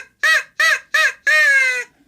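A turkey call mimics a crow, giving three short harsh caws followed by one longer drawn-out caw, loud and close indoors with no talking.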